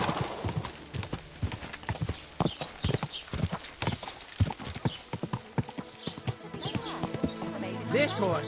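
Horse hooves clip-clop in a steady trotting rhythm in Kingdom Come: Deliverance II, close and clear, with people talking over them and a horse whinnying briefly.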